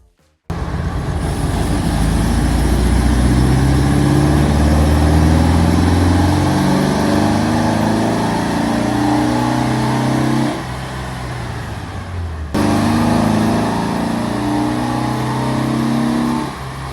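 A grey Volkswagen Beetle's engine is run hard on a dyno: a loud, sustained engine roar rising steadily in pitch through the gears, with a brief dip near the end before the revving resumes.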